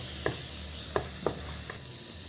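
Poha ingredients are stirred in a frying pan over a constant sizzle, with several sharp scraping taps of the spoon against the pan at irregular intervals.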